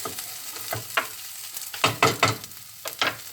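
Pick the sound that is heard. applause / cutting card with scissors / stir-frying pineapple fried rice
stir-frying pineapple fried rice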